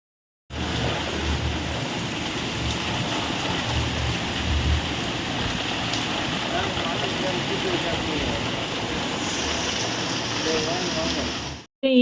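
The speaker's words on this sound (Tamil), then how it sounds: "வெளில சவுண்டு கேட்குதுன்னு போய் பார்த்தா செம்ம மழை" Heavy rain pours down outside a house on Diwali, a loud, steady hiss of falling water that starts abruptly and continues evenly for about eleven seconds before cutting off.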